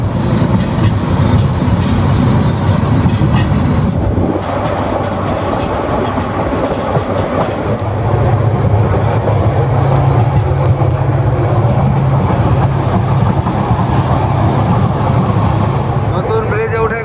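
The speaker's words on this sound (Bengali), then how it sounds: "নতুন রেল ব্রিজ দিয়ে যাচ্ছে" A train rolls across the new rail bridge at the Jamuna Bridge, a loud, continuous rumble with rhythmic clatter of wheels over the track, heard up close for the whole stretch, with voices faintly underneath.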